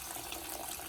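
Water is poured into a pot of chicken curry cooking with tomato and spinach, a short continuous splashing pour heard close and alone.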